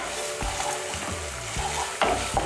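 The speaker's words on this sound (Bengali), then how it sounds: "মিশিয়ে নিয়ে হালকা একটু ভেজে নেব।" Garlic and ginger paste stirred and lightly fried in a pan, with soft scraping spoon strokes repeating at a slow, irregular pace over a faint low sizzle.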